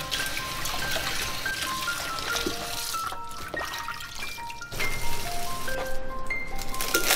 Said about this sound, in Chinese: 再来洗一把韭菜。